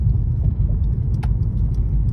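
Low continuous engine rumble from a line of cars idling on Bissonnet Street in Houston on a Friday night, close and steady with a faint metallic click, and no talking.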